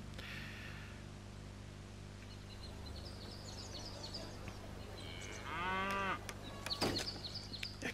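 Cattle in the train game Railway Empire moo once, loud and close, over a steady low background hum, with a few faint bird chirps scattered around it.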